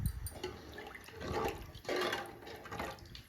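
Water being poured into a pot for coconut milk rice, four glasses for two glasses of rice: a soft continuous splashing and gurgling stream, fairly faint, with slight surges.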